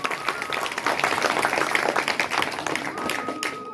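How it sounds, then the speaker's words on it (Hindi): Applause for a school teacher at a farewell ceremony: a dense, steady clapping crowd fills the room for about four seconds, loud and close throughout. "एक बार स्पेशल ताली उनके लिए जरा बजा दी जाए।"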